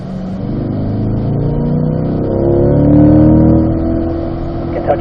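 Loud, close engine of a race car pulling in fourth gear on a track, rising steadily in pitch and swelling to a peak before the note drops as it lifts near the end. No talking is heard.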